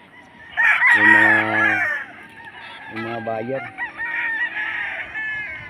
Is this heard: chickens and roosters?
yes